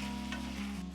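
Garlic frying in a pan for chicken pesto pasta, a steady, faint, close sizzle with a low hum under it and no talking.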